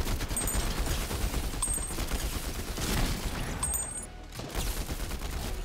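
Combat assault rifle in a shooter video game firing rapid bursts close up, dense continuous crackling gunfire filling the whole stretch with brief dips between volleys, fairly loud and without talk.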